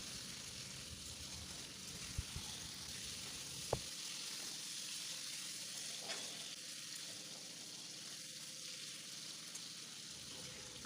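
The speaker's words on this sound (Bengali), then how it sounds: "ফ্লেমটা কিন্তু লোতে রেখে আমি আলুগুলোকে ভেজে নিচ্ছি।" Potato pieces frying in oil over a low flame while cooking cabbage, making a steady, soft, continuous sizzle with a few faint clicks and taps throughout.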